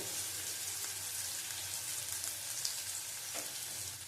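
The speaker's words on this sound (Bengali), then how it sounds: "এবার আঁচ কমিয়ে কমিয়ে ভাজবো" Shrimp and eggplant fry gently in a pan over low heat, making a soft, continuous sizzle with faint crackles, quiet and steady, with no voices.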